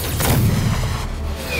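Rocket launcher blast in Marvel's Spider-Man during a heist, a loud booming explosion with rumbling low end that sustains and decays over about a second and a half.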